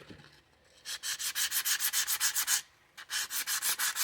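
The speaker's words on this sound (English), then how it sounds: "There's a 120 grit sandpaper, and we're just gonna strip" Hand sanding a revolver with 120 grit sandpaper, rapid rhythmic back-and-forth scratchy strokes, close and clear, in two bursts separated by a short pause.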